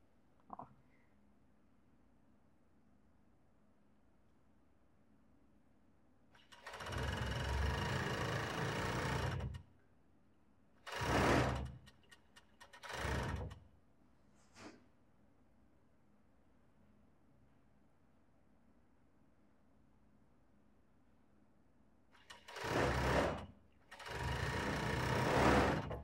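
A sewing machine stitches slippery fabric for a long-sleeved robe in several bursts: a long run, two short ones, a brief tick, then two more runs. Each burst is a loud, close mechanical whirr, with near silence between.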